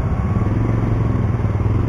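A TVS Callisto motorcycle engine runs loudly and steadily close by, a continuous low rumbling throb with no talking.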